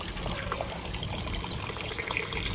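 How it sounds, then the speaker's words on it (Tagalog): Water pours steadily into a pot, a continuous splashing trickle heard close up without any voices. "lalagyan natin ng mainit na tubig para mabilis kumulo"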